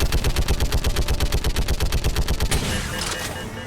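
Rapid automatic gunfire in the video game Mass Effect, a fast evenly spaced burst of loud shots for about two and a half seconds, then a brief fading echo, with no talk.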